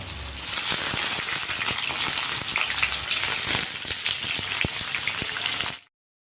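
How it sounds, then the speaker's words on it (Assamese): Bay leaves and onions frying in a pan, a loud, dense sizzle running steadily with scattered sharp clicks of stirring, cutting off abruptly at the end. "তেজপাত আৰু পিঁয়াজখিনি দি দিলোঁ বঢ়িয়াকৈ। এতিয়া ভাজিব লাগিব।"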